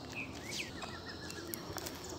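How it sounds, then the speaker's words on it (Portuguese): Saffron finch (canário-da-terra) song, several thin high chirps and short whistled phrases, faint and somewhat distant over a steady outdoor hiss. "Isso aí foi a puxadinha ali, ó. Do canário da terra."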